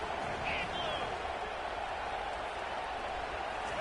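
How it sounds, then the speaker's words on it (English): A packed football stadium crowd roars at a USC game as a team lines up for a go-ahead two-point try, a constant broad wash of noise with faint voices mixed in. "they'll have to conquer this crowd noise"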